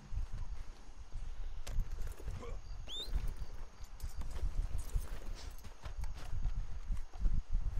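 Horse hooves clip-clopping in Red Dead Redemption 2, a steady rhythmic trot that carries on throughout at moderate level beneath game ambience, with a brief high chirp partway through.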